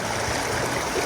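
A river in rural Australia, the Sugenbugen, flows steadily with a broad, continuous rush of water, near and alone with no voices, holding an even level throughout.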